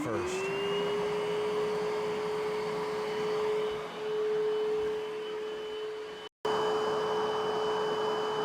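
A Bissell SpotBot hands-free carpet cleaner running with suction, a steady loud motor whine with a sustained tone, briefly cutting out for an instant near the end before resuming.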